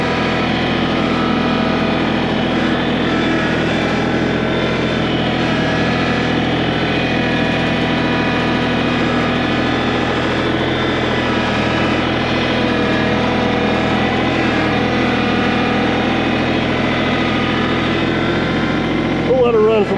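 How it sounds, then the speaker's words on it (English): A small tractor and a water pump engine idle together during an emergency dam repair, a loud, steady mechanical drone that holds without a break, with a brief voice near the end. "we got the little tractor and the pump going"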